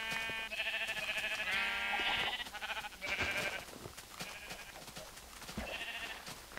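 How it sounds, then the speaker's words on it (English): Sheep bleating in the video game Minecraft, several wavering bleats in a row with short pauses between them, close and fairly loud over a faint background. "Sheep!"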